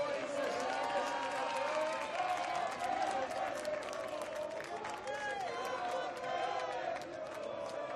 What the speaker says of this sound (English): You can hear the crowd chanting